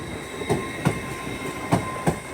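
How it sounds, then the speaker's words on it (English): LNER train departing Doncaster station on the East Coast Main Line, wheels clacking in regular pairs over rail joints under a steady hum, moderately near. "Departing now will be your 1212 LNER Zuma service from Leeds to London King's Cross"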